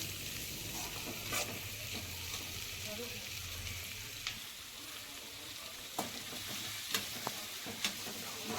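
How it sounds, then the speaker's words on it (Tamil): Eight to ten small onions sauté in hot oil with mustard seeds, a quiet steady sizzle with occasional sharp pops and ticks of spluttering seeds, plus a few stirring scrapes early on; no talking. "ஸோ இந்த வெங்காயம் நல்லா வதங்கட்டும்"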